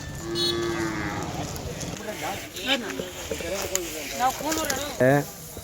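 An ox moos in several drawn-out, wavering calls, close and loud, with people talking nearby.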